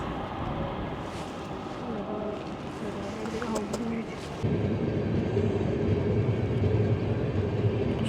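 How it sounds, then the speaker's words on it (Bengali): The Tatanagar Jammu Tawi Express rushes past in a broad, steady rumble that swells louder partway through and stays heavy to the end. "এটা যেটা গেল সেটা ছিল টাটানগর জম্মু তাওয়াই এক্সপ্রেস।"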